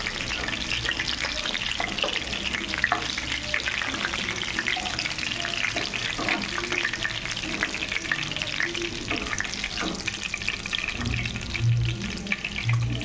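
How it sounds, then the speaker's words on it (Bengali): Chicken pieces frying in hot oil, a loud, steady crackling sizzle close by, with occasional stirring clatter and a few heavier low bumps near the end; no talking. "ফাইনালি আমার সব চিকেনগুলো ফ্রাই করা হয়ে গেল"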